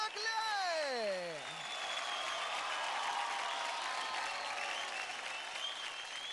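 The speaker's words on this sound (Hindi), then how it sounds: "जोरदार तालियां हो जाए अनुष्का और अनुदिता के लिए।" Studio audience at a televised kids' dance show bursting into sustained applause and cheering right after a host's voice trails off, a dense steady wash of clapping lasting several seconds.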